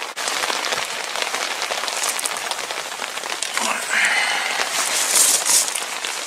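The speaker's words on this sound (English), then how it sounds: "the rain is getting a bit heavier now" Steady, dense rain pouring and pattering close by on the UK coast during sea fishing, a continuous loud hiss that swells slightly toward the end.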